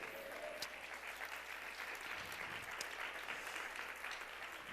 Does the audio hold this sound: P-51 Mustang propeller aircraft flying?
no